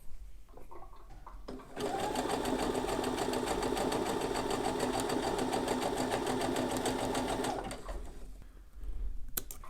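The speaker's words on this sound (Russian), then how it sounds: "теперь проходим мелким зигзагом по краю. Обязательно с натяжением." A sewing machine runs a small zigzag stitch along an elastic edge on boxer briefs, with one steady, loud, close mechanical whir that lasts about six seconds, followed by a quiet stretch on either side.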